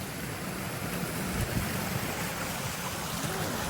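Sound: waterfall flowing in a forest

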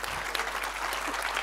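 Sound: audience applause at a forum

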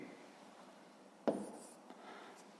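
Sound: writing digits with pen on paper

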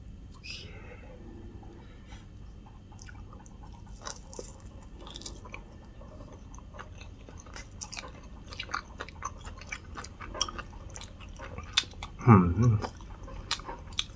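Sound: chewing air-fried sushi while tasting it

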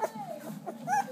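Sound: puppy whimpering

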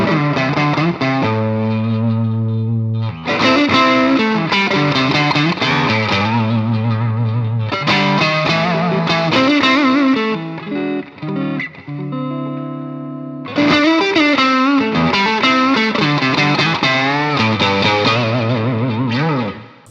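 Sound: electric guitar with Umeda Modern Alnico M-01 pickup, distorted

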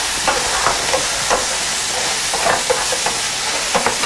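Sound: pot bubbling on the stove while cooking with margarine

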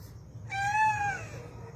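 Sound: injured cat meowing during rescue

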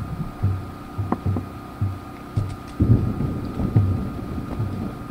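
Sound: thunderstorm on an island in the video game Poptropica

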